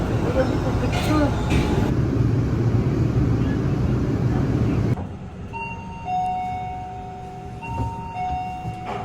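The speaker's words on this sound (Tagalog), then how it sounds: "Ayan, nandito kami sa LRT." A light rail transit train rumbles loudly and steadily, then the roar drops to a quieter hum with high whining motor tones as it slows, with faint voices nearby.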